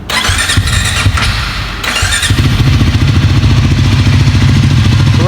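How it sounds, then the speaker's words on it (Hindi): A 2025 Triumph Scrambler 400XC motorcycle starting cold after standing overnight: a loud clattering crank for about two seconds, then the single-cylinder engine catches and settles into a steady, throbbing idle, close by with no talk. "बाइक पे स्टार्ट करके साउंड सुना देते हैं"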